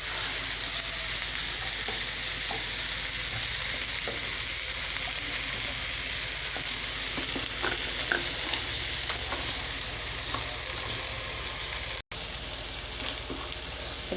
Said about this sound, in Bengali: এবার এটাকে ভালো করে মিশিয়ে ভালো করে ভেজে নেব।